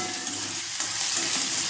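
Chopped onion and tomato frying in a pan for homemade pasta give off a steady, close sizzle with faint stirring scrapes throughout, no voices.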